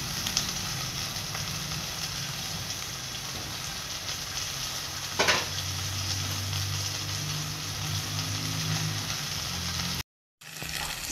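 Eggplant and chili pepper added to a hot pan for ginataang gulay, with a steady loud sizzle and frying crackle throughout, a brief stirring clatter midway and a short cut near the end.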